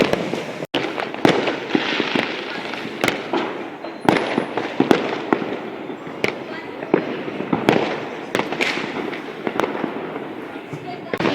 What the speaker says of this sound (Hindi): पटाखे हम जलाते नहीं हैं, बाकी लोग जला ही रहे हैं।